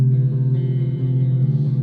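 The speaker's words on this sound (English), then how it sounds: "you can go into like modulation and all the crazy stuff and just make it sound dreamy and class." Electric guitar played through a modulation effect gives a dreamy, shimmering single-coil-like tone, with a sustained chord ringing steadily and warbling gently, alone without voices.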